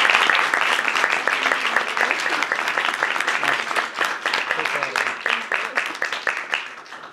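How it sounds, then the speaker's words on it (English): An audience claps for a young student speaker at an education event, a loud, bright, crackling round of applause that gradually thins into looser, more individual claps, with some voices mixed in. "Give her another round of applause, will you please?"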